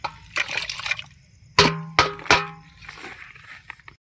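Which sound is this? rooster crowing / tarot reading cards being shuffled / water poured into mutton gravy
water poured into mutton gravy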